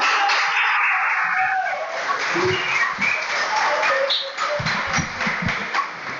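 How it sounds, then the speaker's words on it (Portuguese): A church congregation applauds together, a dense burst of clapping that is loud at first, then thins into scattered claps and shuffling as it winds down. "Vamos aplaudir ao Senhor."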